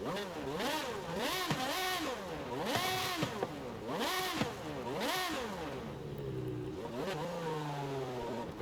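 A car engine in Forza Horizon 5 bangs repeatedly off the rev limiter in rapid, rhythmic bursts, each surge rising and cutting sharply, then settles into a lower rumble; loud and close.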